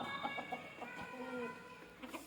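Native country chickens clucking inside a coop at morning opening time, a steady run of soft overlapping clucks and calls from several birds close by, with no talk.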